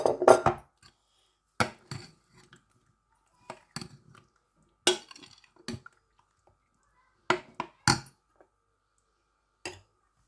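Chana chaat ingredients are stirred in a bowl: sharp, separate spoon clinks and scrapes against the dish come at irregular intervals, close and clear, with quiet gaps in between.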